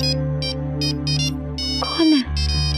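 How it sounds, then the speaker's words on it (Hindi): A telephone rings with a patterned electronic ringtone in repeated bursts, fairly loud, before a brief shift in tone near the end. "दीदी, आपके लिए फोन।"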